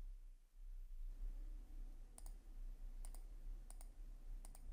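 A computer mouse clicks quietly in a few quick double clicks spaced about a second apart over a faint, steady room hum.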